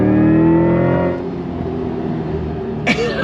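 A 2024 Chevy Corvette E-Ray engine pulls hard on throttle in third gear, a loud rising harmonic drone that eases to a steadier note, with a brief click near the end and no talk.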